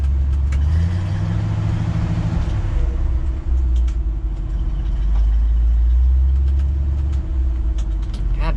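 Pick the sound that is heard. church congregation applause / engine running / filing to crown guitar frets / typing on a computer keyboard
engine running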